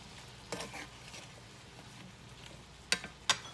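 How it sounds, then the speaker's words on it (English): Squash seasoned with salt and black pepper is stirred in a pan as it starts cooking down, with a soft, faint sizzle and a few light scrapes and sharp utensil taps near the end, no voices. "now we're just going to give that a little mix. And let all that start cooking down."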